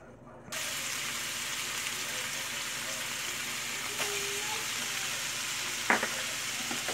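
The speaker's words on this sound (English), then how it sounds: "I'm going to go ahead and start frying my bacon and my ham" Bacon and ham frying in hot grease on a stovetop, a steady close sizzle that starts abruptly and holds evenly throughout, with a faint clink and brief bump near the end.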